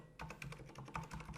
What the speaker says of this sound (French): Et là, je tape php artisan make,